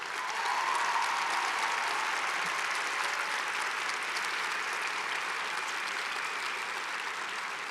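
Applause from an audience at a lecture, a sustained even wash of many people clapping that holds at a steady level from start to finish, with no voices.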